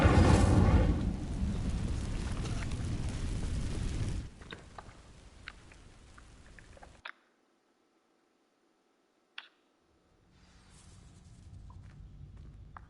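A fire spell igniting dry vines in the Hogwarts Legacy video game, a loud roaring whoosh of flame that drops to softer crackling, then near silence with a few isolated ticks before ambient noise returns.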